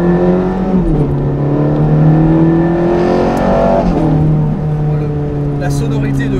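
A Ferrari 430 Scuderia engine hums at low speed, a raspy, metallic drone whose pitch shifts as it eases through gears, steady and close.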